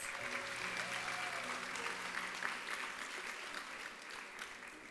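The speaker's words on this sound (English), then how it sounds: "And can we have another round of applause for Ms. Garza's class?" Audience at an elementary fifth-grade graduation ceremony claps in a steady, fairly distant round of applause, with some faint background murmur and tones beneath the clapping.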